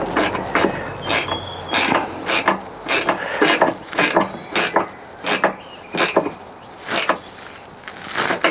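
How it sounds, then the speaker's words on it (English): The fuel pump on a Fiat Ducato diesel motorhome primes after the ignition is switched on, ticking and clicking in a fast, regular mechanical rhythm at close range with no talk over it. "turn the ignition on, pump the fuel up."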